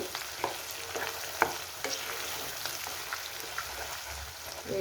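Gongura leaf paste being stirred into hot oil in a pan, a steady low sizzle and frying crackle with scattered scraping taps of the spoon throughout, close and moderately loud, no talk.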